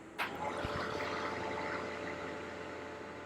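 Milwaukee battery-powered fan running on its 5-watt setting, giving a steady whirring motor whine with broadband airflow rush, close and constant throughout after a brief click at the start.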